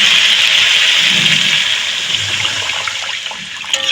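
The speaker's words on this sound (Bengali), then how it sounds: "এখন আমি জল অ্যাড করে দেবো।" Water gushes steadily and loudly into a pan of frying spice paste for a katla fish curry with potato and kohlrabi, a continuous close rush that eases slightly toward the end.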